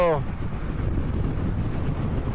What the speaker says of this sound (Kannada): ಏನ್ ಗಾಳಿ ಗುರು